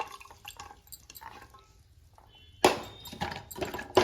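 Soaked chickpeas, about 250 grams, tumble into a pressure cooker in a home kitchen; a few faint taps come first, then a loud sudden rattling pour that clatters on in bursts.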